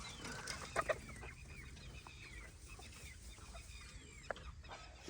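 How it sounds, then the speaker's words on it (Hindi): Chickens clucking at a low level among outdoor village background noise in Pakistan, with a couple of sharper calls near the start. "मुर्गियाँ बोल रही हैं, बाहर निकालना चाहिए इनको।"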